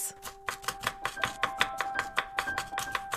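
The side of a hand chops on a hard surface, imitating vegetable chopping, with about a dozen crisp, steady strikes close by and a faint steady tone humming underneath.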